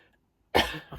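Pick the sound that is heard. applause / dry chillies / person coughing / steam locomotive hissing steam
person coughing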